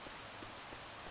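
Rain and flooding in Left 4 Dead 2 during a heavy-rain level, a soft steady hiss of falling rain with faint patter, brief and uniform with no voices.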